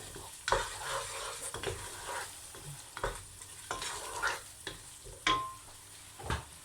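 Spices for an aloo gobi curry with green chillies sizzle and fry in a pot, steady crackling broken by repeated stirring scrapes, close and fairly loud with no talking.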